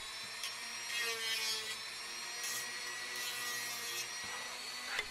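A power tool grinding material off the seam lines of a 3D-printed sword blade, a continuous high whirring hum with short bursts of abrasive rasping as it bears down, close up with no talking.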